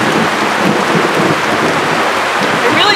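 Steady outdoor rain patters continuously on surfaces, with a low rumble of distant thunder beneath the hiss, loud and uninterrupted with no talking.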